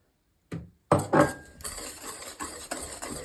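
Sugar, flour and eggs being stirred for cake batter in a bowl, a few close knocks of utensil against the bowl followed by soft repeated scraping strokes.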